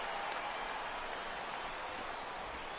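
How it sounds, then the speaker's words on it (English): A virtual ballpark crowd in MLB The Show 16, Phillies hosting the Giants, lets out a sustained, fairly loud murmur of oohs as a fly ball carries, a broad steady roar without pauses. "This crowd oohs and ahs every time this guy hits a fly ball"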